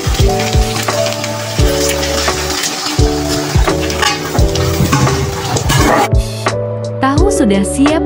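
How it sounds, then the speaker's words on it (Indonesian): Tofu fries in a pan with a soft sizzle and scraping stirs beneath a loud, steady bed of rhythmic music that largely dominates. "Goreng tahu."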